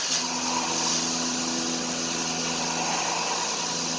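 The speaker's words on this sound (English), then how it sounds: "And here comes the end mill" A Haas CNC mill spins an end mill while cutting a circular pocket, giving a steady, loud high-pitched whine with a sustained tonal hum and constant airy noise across the few seconds, with no talking.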